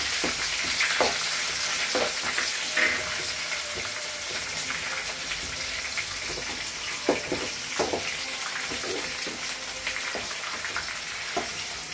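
Onions sizzle and fry in a pan while vegetable upma is being made, with steady crackling, occasional stirring clatter and a background hiss that continues throughout.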